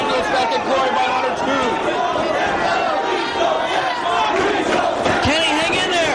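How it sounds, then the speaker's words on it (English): A wrestling arena crowd chants loudly during a submission choke hold, rival groups of fans shouting in rhythmic waves over dense, continuous crowd roar and babble throughout. "Crowd chanting, please don't tap. Other fans chanting tap."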